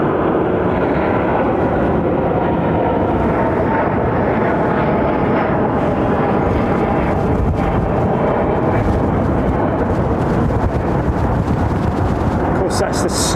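Airbus A350-1000 airliner at London Heathrow Airport, a loud, sustained broadband roar of jet engines that holds steady throughout, dominating the scene with no clear voices over it.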